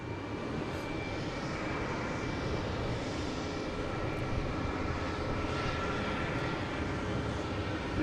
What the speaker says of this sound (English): There's Delta heading to Salt Lake City. The A321neo, flight 445.